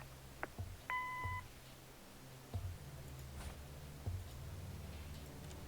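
A single clear electronic voicemail beep sounds in the Kathy Rain: Director's Cut adventure game, a short steady tone set among faint clicks and ticks over a quiet low hum.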